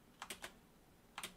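A few faint keystrokes on a computer keyboard, two short pairs of clicks separated by a pause, quiet and close with no talk.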